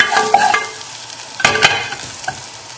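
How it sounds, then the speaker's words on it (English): Garlic and ginger sizzle in a hot pan while being stirred, a steady crackling fry broken by a few sharp scraping strokes, close and alone with no talk. "And if it's sizzling like mine, just turn the heat down now"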